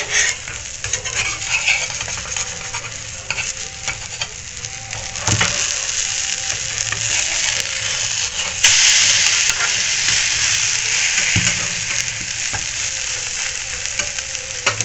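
Steady, loud sizzling of egg and cabbage frying in a pan, with occasional scraping clicks of a utensil; no talking.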